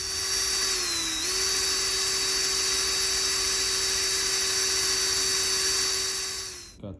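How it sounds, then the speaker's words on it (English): A power drill bores a hole in a DIY trolling motor splasher, a loud steady high whine held for about seven seconds with a brief pitch dip early on, then stopping abruptly with a clunk. "I got one more hole to drill"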